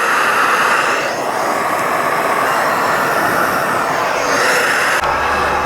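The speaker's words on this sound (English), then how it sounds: "The Jetboil one is a lot louder." A Jetboil camping stove and a knock-off stove burn side by side at full flame, making a steady loud roaring hiss like a jet, continuous and close with no talk.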